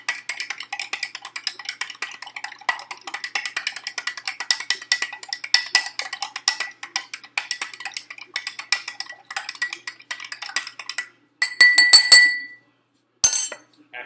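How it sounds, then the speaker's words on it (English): A rod stirring a solution in a glass for an iodine clock chemistry experiment, with rapid continuous light clinking against the glass, close and steady, ending in a few louder rings and a final tap. "I'm going to stir this up for 30 seconds."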